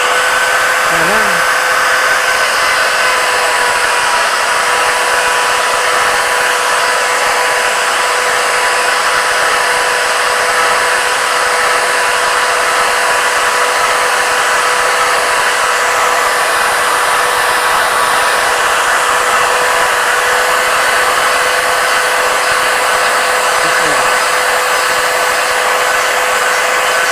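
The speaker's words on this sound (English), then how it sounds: "I'm going to turn on this router, and it's going to be very noisy." Router cutting a thread on a wooden dowel in a wood threader produces a loud, steady high-pitched whine with broadband cutting noise for nearly half a minute, with no breaks or speech.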